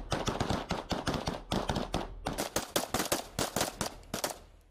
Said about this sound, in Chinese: 特战队员相互掩护，采取多种射击姿势对目标进行射击